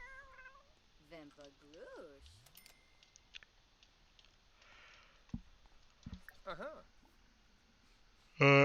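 Cats meow repeatedly inside a Sims life-simulation game, a string of short, wavering cries scattered across the scene with quiet game ambience and a loud burst at the end.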